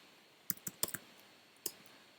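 Several quick clicks of a computer keyboard being typed on, close and crisp, grouped in a short burst with one more keystroke a moment later against a quiet background.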